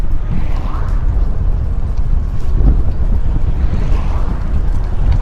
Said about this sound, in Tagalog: medyo malakas yung headwind